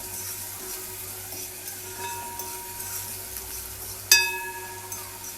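Onions and seasonings sweating in a pan for steamed cabbage and saltfish, a soft steady sizzle with faint stirring and one sharp metallic clink near the end.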